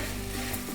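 Samosa filling with curry leaves and salt being mixed in a hot pan, a brief continuous sizzle and stirring rustle, close and steady, with no voices.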